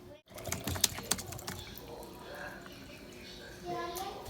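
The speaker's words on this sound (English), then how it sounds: "I'm gonna add in some filtered water and kind of shake it around to dissolve the salt" Filtered water with salt sloshes inside a 4-cup container, starting with a few sharp clicks and knocks and then a rolling, moderately loud swishing as it is shaken.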